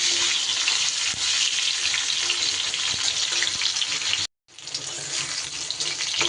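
Pointed gourd pieces stir-frying in mustard oil, loud steady hiss and crackle close up, broken only by a short silent gap.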